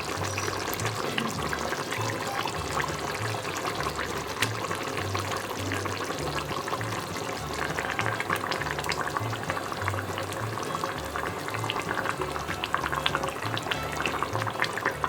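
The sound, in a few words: cleaned fish pieces added to simmering Nellore fish curry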